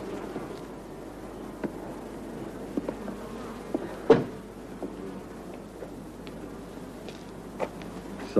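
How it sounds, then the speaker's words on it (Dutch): Wasps buzzing in a quiet indoor scene from a 1983 Dutch film: a faint, steady insect drone that runs throughout, with a few soft knocks and one sharper thump near the middle. "Ja, wespen."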